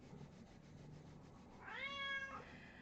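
A hungry house cat lets out one drawn-out, rising meow close by after a stretch of faint rubbing noise, with no talk.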